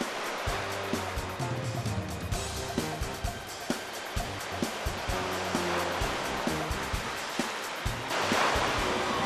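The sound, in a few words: ocean waves washing over the shore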